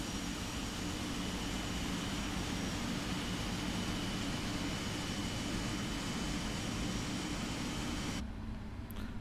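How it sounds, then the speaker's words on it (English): Boeing 777 freighter jet engines on a Lufthansa delivery flight from Paine Field produce a steady, loud, broadband roar with a constant hum. It continues unbroken for about eight seconds before dropping away sharply near the end. "I love the sound of the 777 engines."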